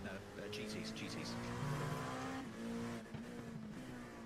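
GT race cars battle for the class lead in an iRacing endurance race, their engines droning with shifting pitch and brief tire squeal, while voices talk over the action.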